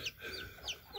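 Frizzle-cross chickens give soft, faint clucks and chirpy calls in a quick one-second snippet, close by but quiet.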